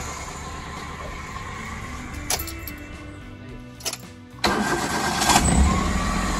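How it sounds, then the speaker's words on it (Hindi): A Maruti car engine, fresh after an oil change, cranks briefly and catches, then settles into a steady idle that rises as it revs, close and clear. "गाड़ी बिल्कुल स्मूथली स्टार्ट हो रही है एकदम मस्त"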